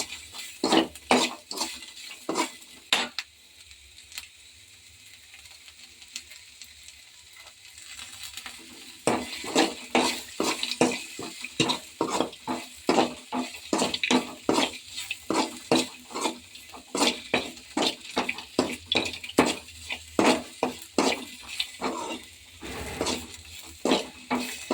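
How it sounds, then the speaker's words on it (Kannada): Onions fry in a pan for mandakki tindi while a spoon scrapes and stirs them, giving quick rhythmic clinks over a soft sizzle. A quieter stretch comes before steady stirring resumes, close and without speech. "ಸ್ವಲ್ಪ ಈರುಳ್ಳಿ ಕೆಂಪು ಫ್ರೈ ಆಗೋರು ಹುರ್ಕೊಳ್ಳಿ."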